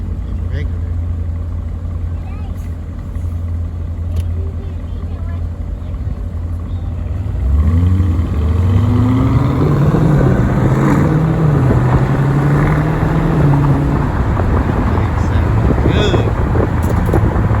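Lamborghini Urus with a mid muffler delete accelerating hard, a steady roar that swells into a rising, sweeping engine note over wind noise, with voices talking over it.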